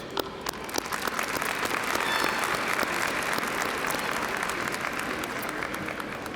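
Graduating seniors at a 2022 Cedar Shoals High School graduation ceremony applaud themselves, a large crowd's sustained, dense clapping filling the hall steadily from start to finish.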